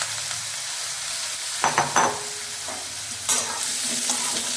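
Boiled raw jackfruit pieces frying in hot mustard oil in a kadai, a steady close sizzle broken by a few scraping stirs of a spatula.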